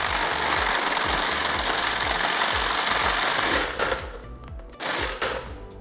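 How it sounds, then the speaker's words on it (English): A Little Snowie 2 ice shaver grinds ice for a frozen mixed drink, a loud steady whirring motor with rapid rhythmic chatter that cuts off near the end, then restarts briefly. "And then we're gonna shave in it again."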